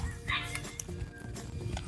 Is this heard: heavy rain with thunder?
no